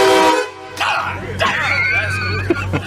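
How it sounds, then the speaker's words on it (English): A train horn fitted to a car blasts loudly up close, then people talk and shout excitedly over the noise and later blasts. "It's a regular train horn, isn't it?"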